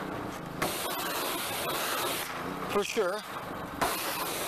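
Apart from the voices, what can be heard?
spraying water to wet a car floor mat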